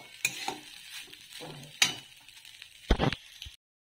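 A pan of food with turmeric and chili added, stirred with a few sharp scrapes and clinks of a utensil over a light sizzle, close by with no talking, ending in brief silence.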